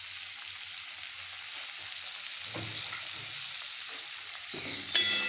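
Tomatoes frying in a pan make a soft, continuous sizzle with a few faint stirring scrapes and clinks, quiet and close, ending in a brief louder clatter.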